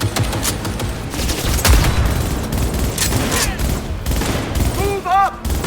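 Cyberpunk 2077 combat firefight: dense, loud gunfire with repeated shots and booms across the whole stretch, with voices shouting briefly amid the shooting.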